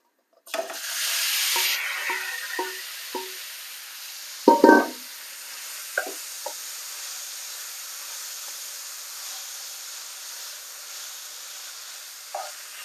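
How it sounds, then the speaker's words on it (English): Minced beef hitting hot vegetable oil in a pan, a loud burst of sizzling that settles into a steady frying hiss, with a few sharp knocks and taps of a utensil scattered throughout. "So now we're just going to add in the beef."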